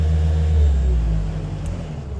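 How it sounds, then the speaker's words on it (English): A small motor, running while a worm tower is lifted and checked, gives a steady low hum and rumble that swells slightly then eases as it is shut off, with no voices. "Shut the motor off."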